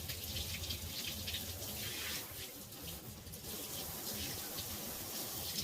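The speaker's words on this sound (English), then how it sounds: "I'm just gonna rinse out the conditioner" Running water rinses conditioner out of hair, a continuous close rushing splash that briefly dips and then resumes at an even level.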